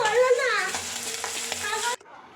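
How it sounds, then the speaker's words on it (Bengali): Small chuno fish fry crisply in hot oil, a loud, steady sizzle with some stirring that cuts off abruptly near the end, no voices over it. "এই মাছগুলো এবার ভালো করে কড়া করে ভেজে নেব"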